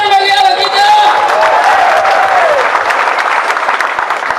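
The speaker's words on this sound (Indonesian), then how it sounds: "Tepuk tangan bagi Allah kita." A congregation at a prison worship service breaks into loud, dense applause, with a voice calling out over the clapping at first before the crowd claps on alone.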